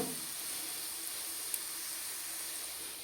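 Gulab jamun frying gently in oil over a low gas flame, a faint, steady soft sizzle and hiss with no other sounds.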